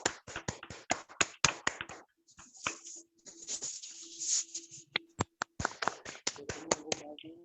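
Scattered claps and finger taps from participants on a Zoom training call, quiet and close, coming in irregular bursts with short pauses between them.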